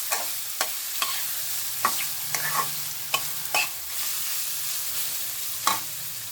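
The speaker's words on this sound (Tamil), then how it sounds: "நான் மஞ்சளை சேர்த்து வதக்க ஆரம்பிச்சிட்டேன்" Fresh turmeric sautéing in a pan for pickle: a steady sizzle of frying runs under repeated scraping stirs of a spoon against the pan, close and continuous, with no talking.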